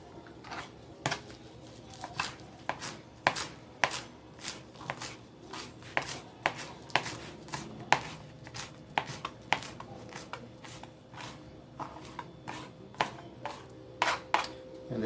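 Fresh cilantro chopped on a board with a knife, a steady run of sharp, close knocks at an even rhythm for the whole stretch, no voices.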